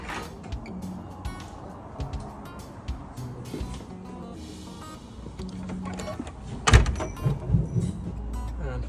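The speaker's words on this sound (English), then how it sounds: "just take the key, unlock the door." A key works the lock of a house front door, making a series of small metallic clicks and rattles, then a louder clunk and scrape as the door opens near the end.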